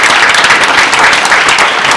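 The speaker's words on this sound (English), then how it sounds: "let's give our panelists a round of applause" Dense applause from a conference audience for a panel discussion on US-Japan sustainability, steady and loud throughout with no pauses.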